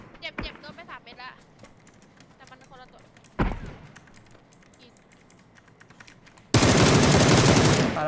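Gunfire from enemies shooting from behind in PUBG: a quick burst of cracks at the start, a single sharp shot midway, then a loud sustained volley to the end, with excited talk and keyboard clatter between.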